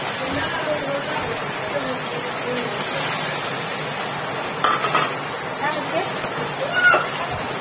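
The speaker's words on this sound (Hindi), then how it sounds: "केते जोर वर्षा होला संगे संग वर्षा बसे देला" Heavy rain pours down in a steady, dense hiss, loud and continuous, with a voice talking faintly beneath it.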